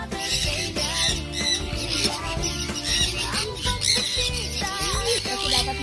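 A bird squawks loudly and repeatedly at close range, harsh calls in quick bursts over a busy, noisy background.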